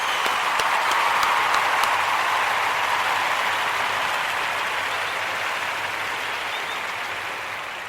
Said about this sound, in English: We want to give all of the Ujima babies a round of applause